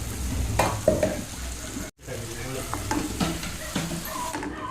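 Tomato paste sizzles and is stirred in a pan with fresh peas, giving a steady frying hiss with scraping stir sounds. There is a brief drop to near silence partway through before the sizzling resumes, close and moderately loud.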